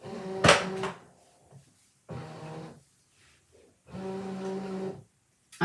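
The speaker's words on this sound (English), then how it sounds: "Now I'm going to load the mat back into the ScanNCut machine." A Brother ScanNCut cutting machine feeds a cutting mat in, with three whirring motor runs separated by short pauses, the first opening with a sharp clack; close and moderately loud.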